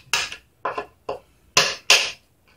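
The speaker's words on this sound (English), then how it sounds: "Just get a good bite in there with your hammer. Knock off that old gasket material." Five sharp hammer knocks chipping rock-hard old spark plug tube gasket material off a 1996 Nissan Sentra GA16DE engine, close by and irregularly spaced, the last two louder and longer.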